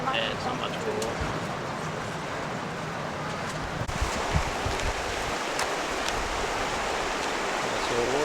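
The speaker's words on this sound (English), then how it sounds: "Waterfall." A waterfall near Katherine, seen on a boat-hopping walk, gives a continuous broad rushing roar mixed with wind buffeting the microphone, steady and fairly close.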